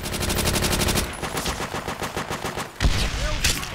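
Sustained automatic submachine gun fire from the World at War online shooter, dense rapid bursts filling the clip with a brief pause near the end before firing resumes, loud and up front.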